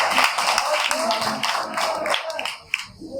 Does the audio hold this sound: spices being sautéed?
no